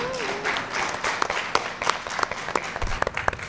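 Audience applause on a Nepali singing talent show, a dense burst of clapping that thins into scattered individual claps, with a brief voice at the start.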